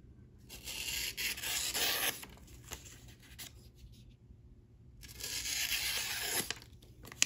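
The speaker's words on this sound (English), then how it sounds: "it goes through the paper very, very quietly" A Divo Knives Growler knife blade cuts through sticky note paper. Two quiet bursts of dry tearing and scraping are heard close up, separated by a near-silent pause.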